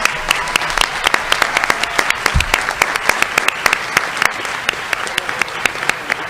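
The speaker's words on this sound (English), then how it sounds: "Can we have one more round of applause for these amazing educators?" An audience claps for educators in a loud, dense round of applause that continues evenly throughout, with distinct sharp individual claps.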